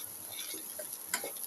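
Carrom seeds and salt are stirred in a pot, making faint, quiet scraping and light ticking with a soft sizzle and a brief clink partway through.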